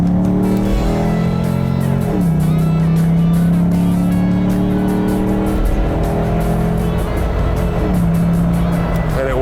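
Land Cruiser powered by an LS3 Chevy V8 with a 6L80 automatic, revving loud and close with a deep sustained drone that dips and climbs again in pitch, alone without talk.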